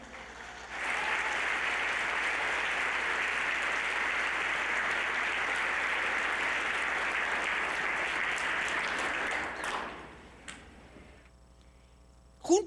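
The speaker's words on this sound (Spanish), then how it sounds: "¿No le quiere dar un aplauso al Señor?" A church congregation applauds loudly and steadily for about nine seconds as a dense wash of clapping, then fades out, leaving a few faint knocks and a brief closing sound.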